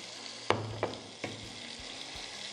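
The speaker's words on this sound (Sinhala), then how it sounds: "පොල් තෙල් ටික රත් වෙගෙන එද්දී අපි ඒකට අපේ චිකන් ටික එකතු කරගන්නවා." Chicken strips go into hot coconut oil and fry, a soft steady sizzle broken by a few sharp clatters, close and fairly quiet, with no talk.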